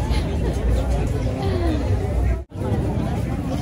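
Crowd hubbub at Universal Studios California on the Fourth of July, a steady wash of overlapping voices and chatter from many people nearby, with a brief dip in the noise partway through.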